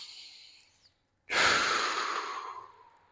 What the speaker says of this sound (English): let's take 6 breaths, starting now